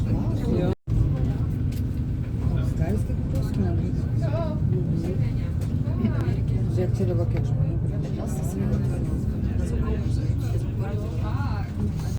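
Bus heading to Milan Bergamo airport, with a steady engine and road rumble continuing throughout, a brief dropout near the start, and people talking under the noise.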